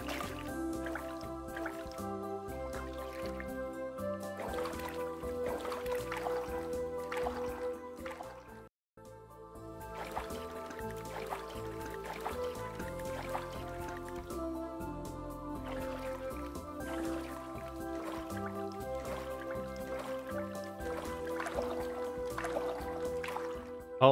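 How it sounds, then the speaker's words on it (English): Kayak paddling in the video game Teddy Floppy Ear: Kayaking, steady watery splashes and drips repeating under a continuous game music bed, with one brief dropout midway. "The paddling has made me tired."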